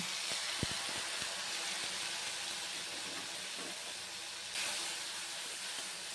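Spice paste with fried tomato cooking in a pan, a steady loud hiss and sizzle with a few faint stirring taps near the start and no talk.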